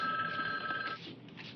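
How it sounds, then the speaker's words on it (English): A household telephone bell rings in a continuous metallic trill for about a second, then cuts off, leaving a quiet room. "Can't you hear that phone ringing?"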